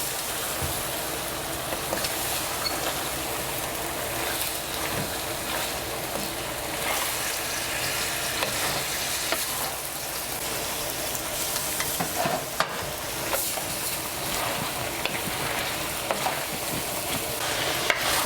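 Tuna pasta with butter and lemon zest being stirred in a hot pan, giving a steady, close sizzle and fry with soft scraping of the spoon throughout and no talking.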